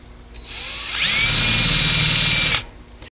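A power drill dimples metal, whining up to speed, running steadily at high pitch for about a second and a half, then winding down; close and loud.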